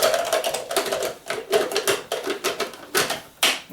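Small baby food processor chopping torn chunks of bread for sausage rolls, a rapid series of loud, sharp clattering bursts in close succession, nearly a dozen quick pulses over a few seconds.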